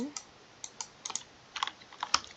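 Computer keyboard keys tapped in short, uneven bursts of crisp clicks, a few quick strokes then pauses, fairly faint and close with no voice over them.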